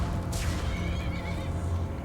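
A loud equine-sounding bray or whinny from a donkey under attack in the game Enderal: Forgotten Stories, a single harsh cry over a low rumbling background.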